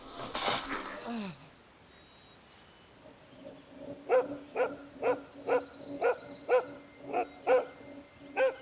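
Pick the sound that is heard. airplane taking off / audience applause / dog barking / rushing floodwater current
dog barking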